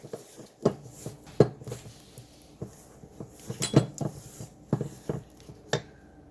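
A utensil clinks and scrapes against a bowl while no-knead Dutch oven bread dough is stirred, with irregular knocks spaced a second or so apart over a soft, close background.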